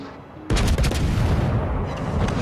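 Battleship secondary guns firing in World of Warships Legends, a sudden loud burst of booming gunfire that rolls into a dense, sustained barrage of overlapping shots.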